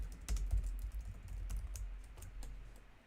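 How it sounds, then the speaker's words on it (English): Fast, close keystrokes on a computer keyboard, a dense run of clicks with a couple of heavier taps near the start, steady and unaccompanied by speech. "Actually, 1 sec, just typing."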